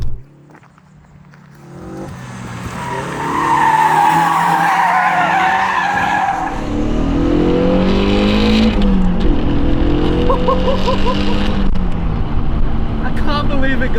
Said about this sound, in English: there are a whole lot of noises happening in this cabin of this AE86